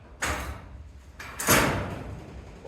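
A DIY carport garage door with low headroom is pushed shut against a quick latch, making two rolling, scraping bursts of metal movement close by, the second louder and longer, with no speech over it.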